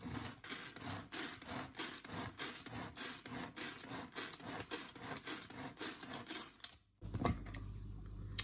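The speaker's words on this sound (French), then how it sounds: "Et je vais passer au Turbo Chef. Donc simplement une main ici pour le tenir, on tire la corde, plus on tire, plus c'est fin." Turbo Chef manual pull-cord food chopper cranked repeatedly by hand, a rapid rhythmic series of close ratcheting whirs for about seven seconds, then a brief thud and stop.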